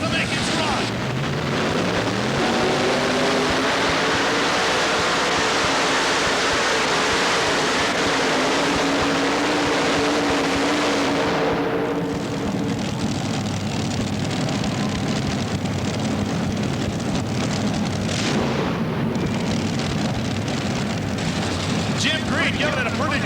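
Loud, continuous engine roar of a tractor pull run, a tractor with three 604 cubic inch motors dragging the sled down an indoor lane at the Cow Palace, with a rising then shifting tone that carries steadily through the whole pass.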